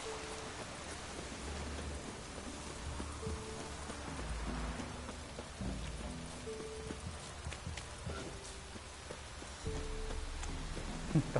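Steady rain patters on a surface in the video game The Witcher 3, with faint low musical tones drifting underneath; no voices.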